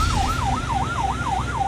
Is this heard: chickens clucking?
no